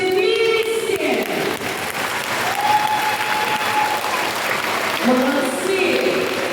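Audience at a seaside show applauding loudly and steadily throughout, a dense continuous wash of clapping from a crowd, with some voices and a faint tone mixed in.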